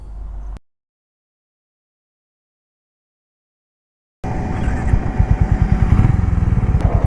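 A Hero Mavrick 440 motorcycle rides along after a stretch of silence, its engine and exhaust giving a close, loud, rapid thumping pulse that builds steadily as it pulls away.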